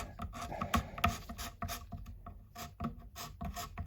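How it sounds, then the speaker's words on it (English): Scraping and rubbing at oily grime on a filthy Rally GL300 motorcycle during a strip-down, coming as close, irregular rasping strokes and scratches with no talking. "I'm just cleaning up, as you can see. Throwing up, cleaning up, cutting into the grime."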